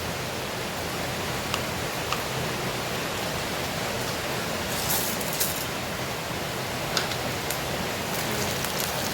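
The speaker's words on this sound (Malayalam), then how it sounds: "നല്ല മഴയാണ് നമുക്ക് പെയ്യുന്നത്." Heavy, steady rain pours down in a dense, unbroken hiss that holds at the same level throughout, with a few faint ticks of drops striking a surface and no voices.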